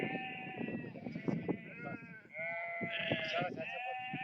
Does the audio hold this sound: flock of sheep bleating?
yes